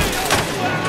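Rapid gunfire rattles in the video game Bioshock, a brief dense burst of overlapping shots, loud and close, filling under a second.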